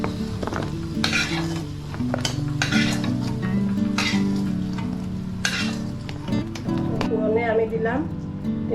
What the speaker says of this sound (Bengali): আমার আলু আমি লাল লাল করে ভাজা করছি